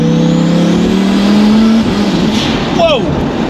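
A 1438 bhp twin-turbo Lamborghini Huracan Performante accelerates hard from inside the cabin: a loud, rising engine drone that climbs in pitch, breaks at a gear change, then sweeps up again, with a voice heard briefly.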